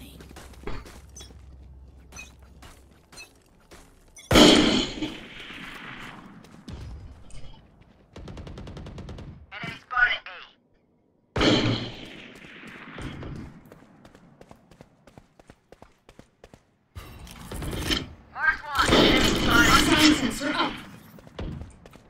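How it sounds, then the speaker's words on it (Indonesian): Sniper rifle shots in the Valorant video game ring out as a few sharp, loud cracks with decaying tails, spaced apart between stretches of quiet game ambience and footsteps, with a player talking over it. "Ini pakai sniper."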